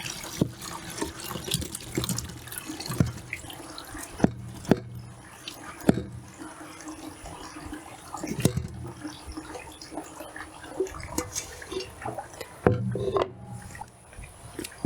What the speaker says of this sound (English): use this colander and basically just strain the juice out